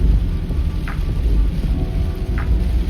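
Heavy rain drums loudly during a road trip from Medan to Pekanbaru in a Daihatsu Ayla 1.2, a constant close downpour with a low rumbling thunder underneath and no talking.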